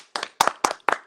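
Four sharp hand claps in an even rhythm, close to the microphone and loud, each with a short ringing tail, with no talk over them.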